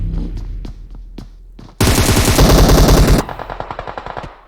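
Rapid automatic gunfire in a competitive shooter match: a few sharp single shots, then a loud, dense sustained burst, then a quicker string of separate shots trailing off, with no talk over it.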